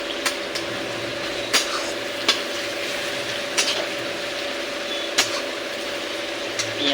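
Sliced onions fry in oil with bay leaf and green chillies for a white-style curry, giving a steady close sizzle with scattered crackling pops and faint clinks.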